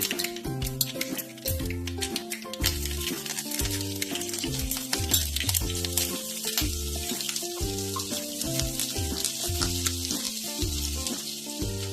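Mustard seeds, ginger and green chilli fry in hot sesame oil in a pan, a steady crackling sizzle with rapid popping, continuing loudly throughout alongside rhythmic tonal background music.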